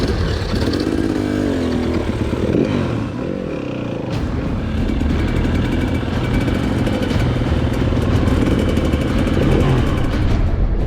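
Two 250cc motorcycles, one two-stroke and one four-stroke, race each other as a continuous loud engine drone with shifting pitch from revving and gear changes, recorded close and steady throughout.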